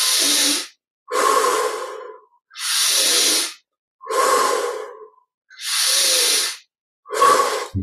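Slow, deep breaths during guided meditation, six long airy inhales and exhales close to the microphone, separated by short silences, with no speech.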